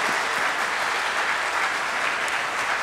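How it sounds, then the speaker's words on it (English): A crowd at an awards night for career center students breaks into loud, sustained applause, a dense wash of clapping that stays even from start to finish with no talk over it. "I just want a round of applause for all these guys"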